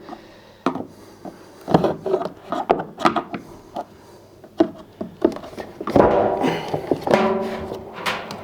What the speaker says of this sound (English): using a flat-headed screwdriver to work it very gently away from the clips